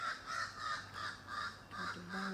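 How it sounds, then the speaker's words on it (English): Birds calling in Jamaica, a run of harsh, rhythmic caws repeating about every half second, moderately distant and fairly faint, with a few shorter calls near the end. "Got the birds chirping up there."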